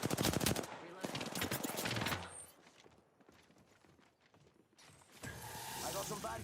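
Video game gunfire, dense bursts of rapid automatic shots near and loud in the opening seconds, then quieter scattered shooting before another loud burst near the end, with voices talking throughout.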